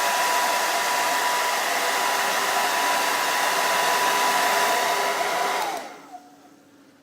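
A hairdryer blows steadily at close range with a constant whooshing roar and a faint motor whine, then switches off near the end, leaving a quiet room.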